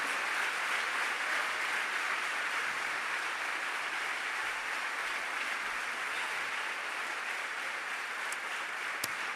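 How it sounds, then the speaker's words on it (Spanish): Sustained applause from a large church congregation, a dense even wash of clapping that holds steady at a moderate distance. "Dale un fuerte aplauso al Señor en esta hora."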